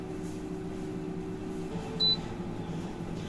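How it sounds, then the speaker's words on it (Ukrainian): A single short electronic beep sounds from an air fryer cooking potatoes, over a low, steady humming drone. "Пікає грилька треба відкрити"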